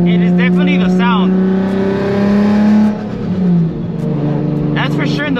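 A boosted Nissan 350Z engine and exhaust drone loudly and steadily, with a deep sustained tone and small shifts in pitch, while people talk over it throughout.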